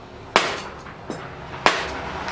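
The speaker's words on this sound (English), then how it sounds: "when you're hammering out cranks, it's perfectly fine" A Shimano 12-speed bike crank being knocked out with a mallet: three close, sharp thuds spaced irregularly, the middle one softer, against a quiet workshop background.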